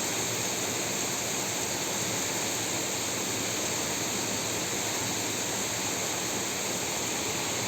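Heavy rain pours steadily in Kolhapur, a dense continuous hiss of downpour with no breaks, close and uniform throughout.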